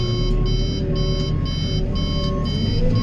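Steady, repeated electronic beeps pulse about once every half second over a loud, continuous low engine rumble, like a warning signal from a farm feed mixer preparing rations for dairy cows.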